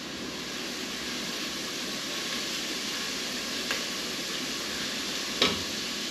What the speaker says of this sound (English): So I'm going to let that saute for a couple minutes